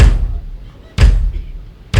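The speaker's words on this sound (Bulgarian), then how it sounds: "Значи, когато не захлупвам чукчето, касата звучи така." Booming bass drum kicks with the beater rebounding off the head, two full hits about a second apart and a third just starting, each with a long resonant low decay, loud and close.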